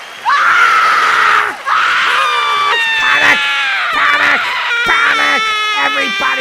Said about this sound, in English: Where's my screaming woman?